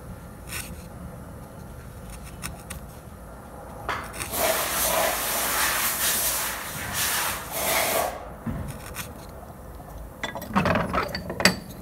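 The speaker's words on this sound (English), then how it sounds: "Little pieces at a time, nice sharp chisel. You can just push it right through." Sharp chisel pushed through the wood of a handmade flute, heard as faint, rough scraping and shaving bursts that rise briefly in the middle and again near the end over quiet background.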